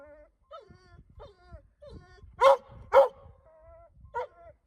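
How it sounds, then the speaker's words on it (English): An excited dog barks at an outdoor shooting range where a .50 caliber Linebaugh pistol is being fired. There are about six sharp barks with whiny yips between them, fairly close, and only faint background noise. "The dog is excited."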